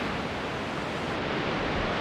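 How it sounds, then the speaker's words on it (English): Big waves surge up to the promenade at North Bondi beach, a loud, continuous rushing roar of surf with no breaks and no voices. "North Bondi, normally a safe haven, is under siege as waves surge up to the promenade."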